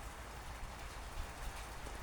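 Steady rain falls during a thunderstorm, a faint, even wash of patter with no talk, holding constant through the short stretch.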